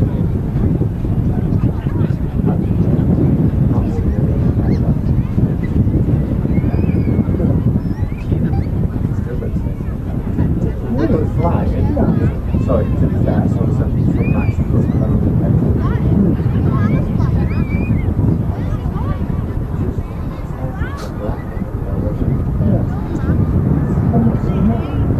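Strong, gusty wind buffets the microphone at Manchester Airport, a continuous loud low roar that rises and falls throughout.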